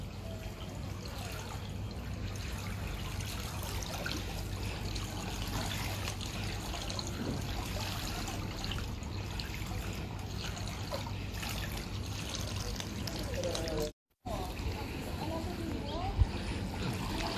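Water trickles and splashes steadily in a swimming pool at a holiday spot in Kusadasi, a continuous watery wash with people talking and calling over it and a brief dropout near the end.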